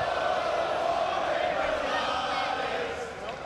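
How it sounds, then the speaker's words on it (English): A wrestling arena crowd roars steadily throughout, a dense wash of cheering that holds loud and constant before easing slightly near the end, with no clear individual voices standing out. "Love the crowd"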